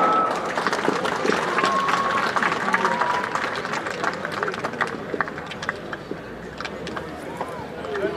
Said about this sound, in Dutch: Geef hem een daverend applaus